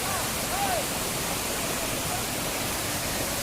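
Water forcing through a narrow rock gap at Benki Falls in the rainy season, a steady broadband roar with no breaks, heard from nearby.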